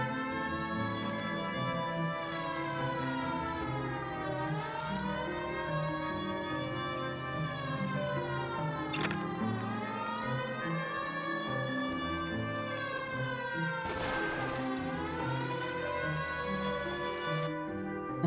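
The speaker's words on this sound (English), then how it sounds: "put the siren on" An electronic police siren from the video game L.A. Noire wails in slow rising and falling cycles, steady and fairly quiet, with no voices.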